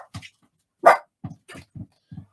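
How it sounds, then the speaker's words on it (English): Dog barking indoors: a string of short, low barks and yips with one louder, sharper bark near the start, close by, with no talk. "Excuse the dog."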